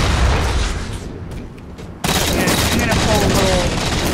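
Rapid, loud gunfire bursts from a shotgun in multiplayer Halo 4 on the Landfall map, with a sharp cut partway through into another dense volley.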